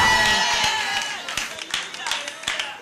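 Hands clapping in a church congregation at a praise service, a run of sharp claps under loud preaching and music.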